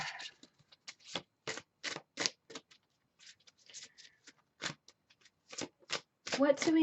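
Oracle cards for a surrender reading are shuffled by hand in quick, crisp riffling bursts with short pauses between them, close and clear, with a voice briefly at the end.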